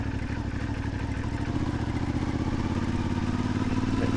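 A CF Moto 450 MT motorcycle engine throbs steadily up close, a continuous rhythmic rumble with rattling as it rides along an uneven road, no voices.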